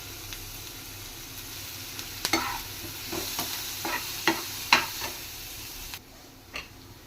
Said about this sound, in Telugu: ఆనియన్స్ ఫ్రై అవుతున్నాయి కదా ఇప్పుడు చిట్టగడ పసుపు కూడా వేసుకుందాం